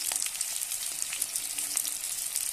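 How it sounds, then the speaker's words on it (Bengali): Chopped garlic fries in hot oil, a close, steady crackling sizzle with small spitting pops and no voices. "তেলটা গরম হয়ে গেছে, দিয়ে দিচ্ছি যে রসুন এইভাবে কুচিয়ে নিয়েছি।"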